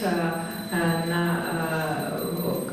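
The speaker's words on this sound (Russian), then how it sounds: "Ringing a bell with Goura-Chakra drives away all types of faults or inauspiciousness." A hand bell rings during a Hindu puja worship service, its sustained metallic tones struck again around the midpoint and ringing on steadily throughout, fairly close and alone.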